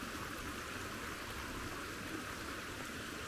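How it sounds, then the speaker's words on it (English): Creek water rushing steadily over check dams after heavy rain, a continuous broadband roar of flowing water with no breaks, moderately distant and without voices. "That's a lot of water coming down here."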